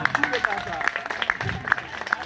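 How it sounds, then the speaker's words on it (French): Scattered applause from a small school gathering, a few distinct hand claps at an uneven rhythm, fairly close, with voices talking in the background. "Les applaudissements, ouais."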